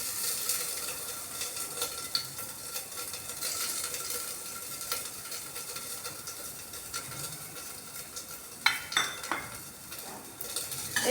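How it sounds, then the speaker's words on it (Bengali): Ginger and a bay leaf fry in hot oil with a pinch of asafoetida in a home kitchen pan, giving a steady close sizzling hiss, with a few clinks of a utensil against the pan near the end. "এই আদা আর তেজপাতা আমি একটু ভাজা ভাজা করে দিচ্ছি।"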